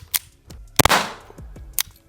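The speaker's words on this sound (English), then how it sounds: "So we have our baseline unsuppressed gun." Unsuppressed .22LR rifle shots at an outdoor range, several sharp cracks spaced irregularly with one especially loud report in the middle and a faint clack between them, no talking.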